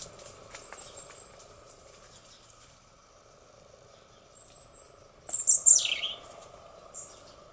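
Birds chirp and call in short bursts on a morning near a nest, with a brighter flurry of calls near the end over a faint steady insect-like drone.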